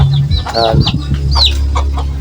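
Backyard gamecocks and hens cluck and squawk close by, several birds calling over a steady low hum.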